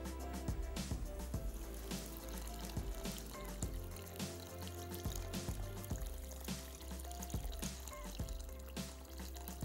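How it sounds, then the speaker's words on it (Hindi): Water is poured into a cooking pot of mixed food on a stove, a continuous splashing pour running under steady background music with no talking. "इसमें मैं भर देता हूं पकने के लिए पानी"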